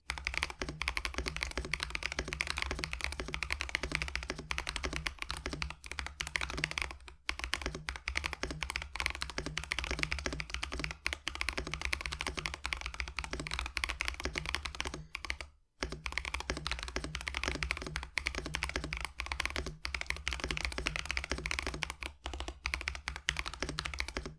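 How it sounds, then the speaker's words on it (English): Steady, continuous typing on MechWild Blue Jay mechanical keyboard switches, crisp and clicky, a fast unbroken patter of keystrokes with only brief pauses, close up and fairly loud. "here is the sound test of the Blue Jay switches"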